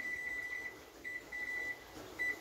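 A microwave oven timer beeping while pastry bites cook in a kitchen, a steady high electronic tone repeated in several short bursts, clear and alone without talk.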